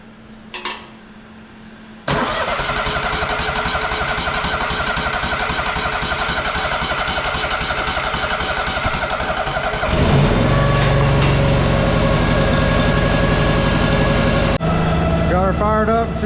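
A Tuff Bilt tractor engine cranks and fires up after a short pause. It then settles into a loud, steady running chug that shifts in tone partway through, with a person talking in the background.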